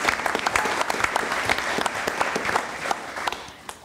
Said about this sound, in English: That's just applause and cheering.